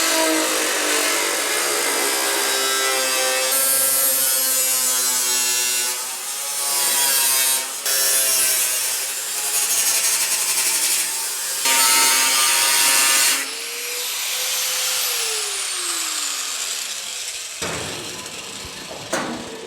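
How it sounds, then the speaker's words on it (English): Cutoff wheel slicing through rusted, pitted steel of a GTO car body, a loud, harsh, high-pitched screech in long bursts with brief pauses. The tone drops as the wheel slows, and it ends on a short clatter. "I'm just going to use a cutoff wheel"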